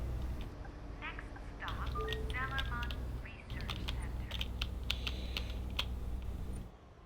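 Computer keyboard keys tapped in rapid, irregular bursts during a Bus Simulator 18 session, close and fairly loud, with a steady hum and scattered game sounds underneath.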